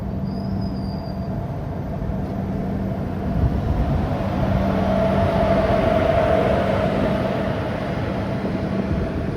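A passenger train runs into Mangaluru Central with a steady low rumble and rolling wheel noise that swells slightly midway, heard from on board.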